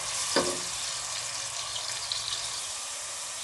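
Onions frying to golden brown in a pan for a potato and eggplant curry, a steady close sizzling hiss with a brief clatter near the start, no talking.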